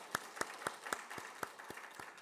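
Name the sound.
church congregation clapping in thanks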